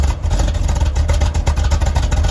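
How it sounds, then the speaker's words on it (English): A 1971 Corvette engine idling, heard from behind through its exhaust: a steady, loud, close low rumble with a throaty pulsing texture throughout. "I want you to listen to the back of this. Just listen to the way that rumbles."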